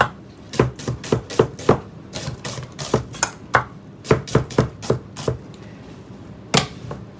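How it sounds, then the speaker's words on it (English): A knife chops onions on a cutting board in quick, irregular bursts of sharp, close knocks, with short pauses between the runs of strokes. "I'm going to start by cutting these onions up right quick"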